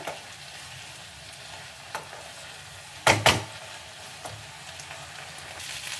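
Drumstick leaves fry in hot oil over a high flame, a steady close sizzle with occasional stirring, broken once by a loud, brief metallic clatter of the spoon against the pan.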